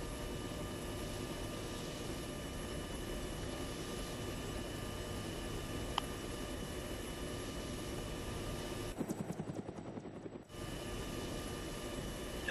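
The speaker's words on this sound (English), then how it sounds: "Yes, this chopper's quick, eh?" A military helicopter in flight is heard from inside the cabin, its loud, steady engine and rotor drone filling the clip, with a brief dip and shift in tone near the end.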